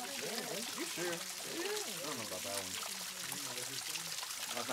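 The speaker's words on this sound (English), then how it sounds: "this is the lower Emerald Pool where it's a little small waterfall, but it's a cute, tiny waterfall" Small cascading waterfall at the Lower Emerald Pool in Zion National Park, a steady close rush of splashing water throughout, with a person talking over it for the first few seconds.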